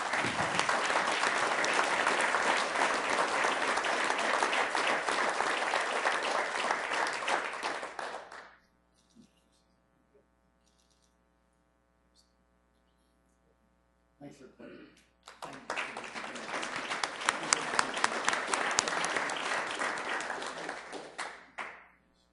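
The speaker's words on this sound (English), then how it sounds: "Let's give him a round of applause." Audience applause for an award winner at a Sioux Falls city council meeting: two long bursts of loud, dense clapping, the first lasting about eight seconds, then a quiet gap with faint sounds, then a second swell of clapping.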